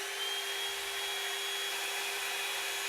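A hair blow dryer runs steadily in a warm room, giving a constant, even whir with a fixed high whine and no pauses or changes in level throughout.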